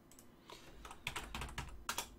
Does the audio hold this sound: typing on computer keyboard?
yes